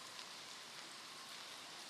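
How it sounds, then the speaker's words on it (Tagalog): Heavy rain pours down during a relentless all-day downpour outdoors, a dense, steady roar of falling water that stays even throughout, with no voices heard. "Sa dahilan ng grabing ulan."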